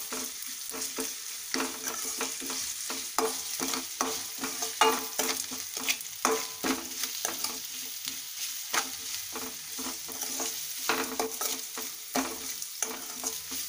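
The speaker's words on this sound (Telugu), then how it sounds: "1 టీ స్పూన్ అల్లం వెల్లుల్లి పేస్ట్ వేద్దాం. వేసి ఇది పచ్చివాసన అయ్యే వరకు కలుపుకుందాం." A spoon steadily stirs ginger-garlic paste frying in a pan for spinach curry, with rhythmic scraping strokes over a constant close sizzle.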